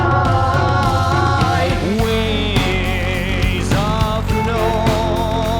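Stacked, bounced vocal harmonies, filtered and widened in stereo, sit loud and dense over a full band mix. Sustained layered voices shift chords every second or so.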